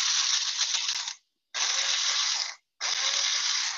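Electric coffee grinder grinding beans to a medium-fine grind: three bursts of dense, close whirring and rattling, each about a second long, separated by short silent pauses.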